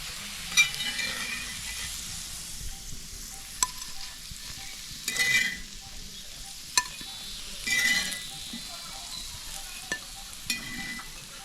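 Slices of suran (elephant foot yam) coated in rava fry in oil on a tawa, giving a steady soft sizzle with occasional stirring scrapes and light clinks, close and moderately loud, with no voices.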